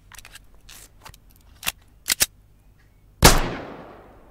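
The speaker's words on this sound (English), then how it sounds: "Alright, it was a single shot." A single gunshot from a new weapon in the video game Ground Branch: a loud, sharp report with a long reverberant tail fading out, preceded by a few small mechanical clicks and handling noises.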